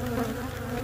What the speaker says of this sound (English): So these bees, even though it's winter, I don't think it's gonna go, is it?